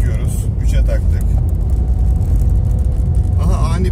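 A 2008 Renault Laguna dCi fitted with a smart clutch system drives in third gear, its loud, dense engine and road rumble steady and close throughout.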